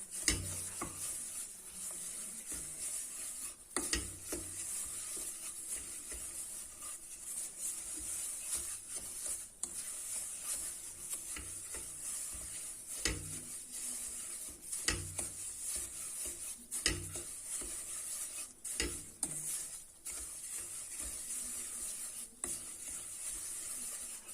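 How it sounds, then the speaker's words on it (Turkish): Semolina being stirred and toasted in a pan over low heat: steady scraping and stirring with soft sizzling, punctuated by occasional clinks and scrapes of a utensil, with no talking. "Sürekli karıştırarak yakmadan iyice kızartacağım"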